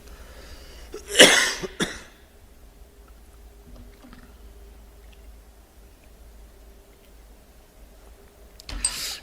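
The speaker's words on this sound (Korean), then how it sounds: "강대상에만 올라오면 왜 이렇게 기침이 나는지 모르겠어요" A preacher at the pulpit coughs twice close to the microphone, then near silence follows, with another short cough at the end.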